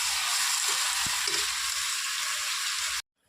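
Meat fries in a pan, giving off a continuous bright sizzle with a couple of soft stirring knocks, close and steady before cutting off abruptly near the end.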